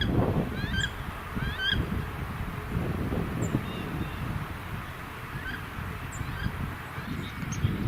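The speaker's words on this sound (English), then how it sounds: "we've seen a return of most of our waterfowl" Returning waterfowl, goose-like birds, honk repeatedly in the distance over steady wind and outdoor rumble, with no talking.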